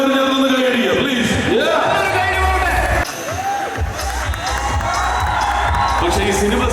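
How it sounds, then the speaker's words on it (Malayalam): An audience at a Kozhikode film event for Omar Lulu's Bad Boys claps and cheers loudly and continuously, a dense roar of crowd noise with shouts and whoops throughout. "ഒമർ ലുലുവിന് വേണ്ടിയിട്ട് നിങ്ങൾ എല്ലാവരും ചേർന്ന് കൈയടിക്കുക പ്ലീസ്"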